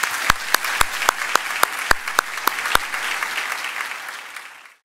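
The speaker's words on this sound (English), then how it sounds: "So please give them another well-deserved round of applause." An audience applauds award winners at a college anniversary event. A few loud, sharp individual claps stand out near the microphone over the softer crowd clapping, which fades out after about four seconds.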